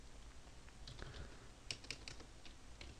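Fingers tap at a computer keyboard in quick, irregular bursts of clicks, close but quiet, with no voices.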